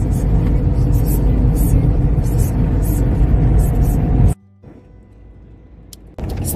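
Trucks sit in a traffic jam on an Italian road, and a heavy, continuous engine rumble with low drone and some voices in the background drops away suddenly into near silence before the rumble returns.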